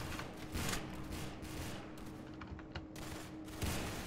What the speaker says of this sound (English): I am being shot at.